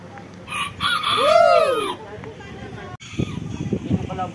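A rooster crows once nearby, a rising and falling call, with people talking around it and over the remaining seconds.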